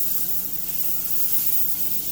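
Butter sizzles in a frying skillet for an omelette, giving a steady, even hiss with no pauses and no talk.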